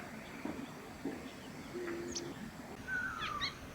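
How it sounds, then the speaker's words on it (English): A black bulbul calling near a small settlement in Bhutan: a few faint, thin, sliding whistles and short chirps spaced across a quiet, hissy outdoor background. "Black bulbul"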